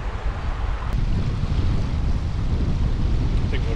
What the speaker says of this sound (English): It's just, it's too windy for us.